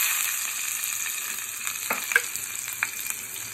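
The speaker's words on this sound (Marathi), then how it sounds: "आपण फोडणी करूया गाईज, सर्वात पहिले मी लसूण ॲड करत आहे" Garlic fries in hot oil for tempering, giving a steady close sizzle with light crackles and occasional pops and no talk.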